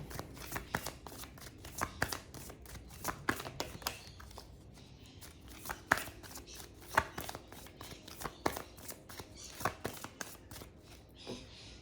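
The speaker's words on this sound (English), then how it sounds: "I'll split the deck." A deck of tarot cards is shuffled close by in a quick, uneven series of crisp riffles and soft taps that continues throughout.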